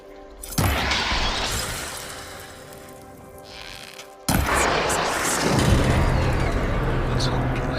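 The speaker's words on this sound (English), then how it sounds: "Maybe I can shoot the coupling on the arm?" A machine arm's coupling is shot in the video game Horizon Forbidden West, with a loud burst of shattering impact and booming debris, a quieter rumbling stretch, then a second abrupt heavy crash with sustained roaring noise.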